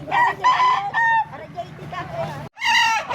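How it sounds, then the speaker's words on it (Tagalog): A rooster crows loudly and close by in several harsh bursts, with short clucking sounds between them. "Ito na yung isang manok"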